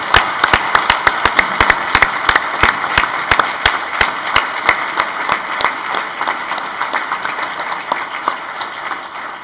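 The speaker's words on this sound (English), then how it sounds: "please join me in a round of applause recognizing the March graduates of the U.S." A crowd at the U.S. Naval War College March graduation ceremony applauds the graduates, with loud, sharp claps in a steady rhythm that rise above a sustained wash of clapping.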